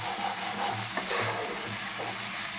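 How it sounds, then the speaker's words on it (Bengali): Spices with a little cumin powder stir-fried in oil in a home kitchen: steady sizzle with repeated scrapes of a spoon against the pan, close and even throughout, no talking. "আর মশলাটা কিন্তু ভালো করে কষাতে হবে"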